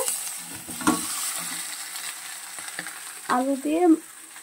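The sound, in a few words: mutton and potatoes sautéing in oil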